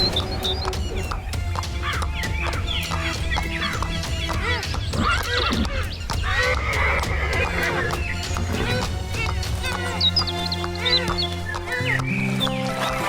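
A horse whinnies with clip-clopping hooves as a king rides toward a magical pond in an animated Hindi folk tale, the neighs and hoofbeats set within a busy, continuous layer of music and effects.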